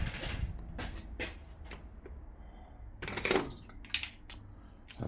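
Metal Allen keys are rummaged through close by while the engine bay of a Red S1 AU XR6 Falcon is being dressed up, making irregular bright clinks, jangles and rattles with quiet gaps in between.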